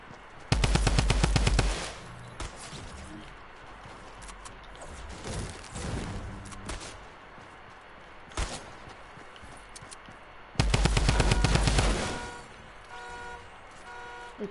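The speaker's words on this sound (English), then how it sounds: "The drum gun is coming in." A drum gun fires in a video game: two long, rapid automatic bursts of about 1.5 seconds each, loud and close, with scattered in-game noises and impacts between them.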